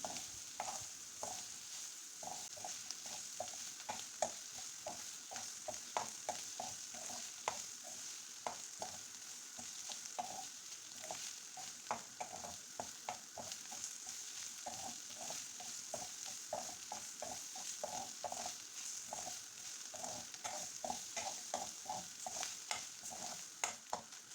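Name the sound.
stirring mussel stir-fry (kallummakkaya thoran) in a pan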